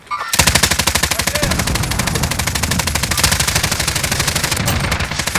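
Rapid automatic gunfire in a multiplayer shooter video game, a loud, steady stream of close shots firing continuously with almost no gaps.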